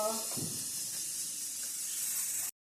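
Whole spices including mace and bay leaf crackle and hiss in hot oil in a pan, a loud steady sizzle that starts abruptly and holds for about two and a half seconds before cutting off.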